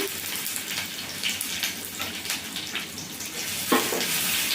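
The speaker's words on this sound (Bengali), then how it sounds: "আদাটা একটু ভেজে নিয়ে" Grated ginger frying in hot oil in a village kitchen pan, a steady close sizzle and crackle that holds on throughout, with a brief louder spurt of spitting near the end.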